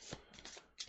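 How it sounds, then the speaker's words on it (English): Playing cards from a Night Raids deck in a tabletop game riffle together in a quick, close shuffle, a soft flurry of papery flicks in about a second with no voices. "We shuffle this back into the Night Raids deck"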